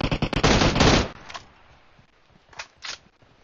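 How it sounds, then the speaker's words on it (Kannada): Loud burst of rapid automatic gunfire from the PUBG Mobile video game, shots cracking in quick succession for about a second, then fading to quieter scattered sounds and two faint distant shot-like bursts. "ನಾನು ಡ್ರಾಪ್ ಶಾಟ್ ಎಲ್ಲ ಹೊಡಿಯಕ್ ಹೋಗ್ತಾ ಇದೀನಿ ಬಾಟ್ಗೆ"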